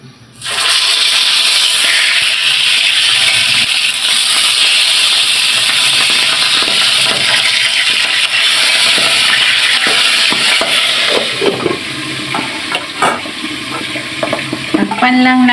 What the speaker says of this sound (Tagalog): Prito na po natin ang isda.